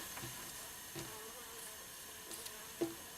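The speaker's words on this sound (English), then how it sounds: "got a bee in here" Faint buzzing of an insect drifts in and out over a steady background hiss, with a few soft taps.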